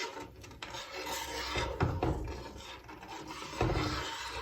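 A spoon stirs vinegar into heated milk in a pot with the heat off, making cottage cheese; a steady scraping rasp repeats with a few louder strokes, close by with no talking.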